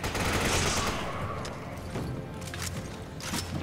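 Close-range AK assault rifle fire in Resident Evil 5, loud bursts of rapid shots with a heavy opening volley that trails into scattered cracks and impacts.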